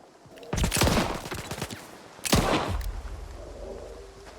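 Two loud bursts of rapid gunfire in STALKER 2, each a dense volley of cracks that trails off into echo, with a quieter gap between them and no speech.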